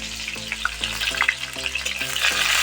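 Chopped onion and dried red chilies fry in a hot pan, giving a steady crackling sizzle with a few sharper pops, while a soft tonal melody plays underneath throughout.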